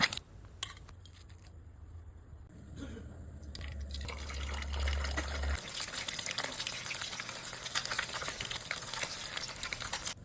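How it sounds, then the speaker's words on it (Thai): Two sunny-side-up eggs fry in hot oil in a pan, giving a steady crackling sizzle that builds and stays loud and dense throughout, with a low hum early on. "ก่อนอื่นเราจะมาทอดไข่ดาวเตรียมไว้ก่อนสักสองฟอง"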